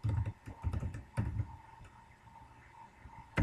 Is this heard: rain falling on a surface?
no